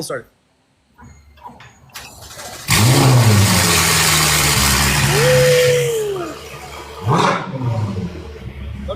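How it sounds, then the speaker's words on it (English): A Ferrari engine cold-starts, cranking and catching, then roars into a loud, sustained idle with a rising rev; people talk briefly before and after. "You got a cold start? All right, cold start."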